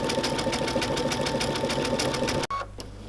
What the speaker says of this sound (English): now I'm going to sew on my outside curve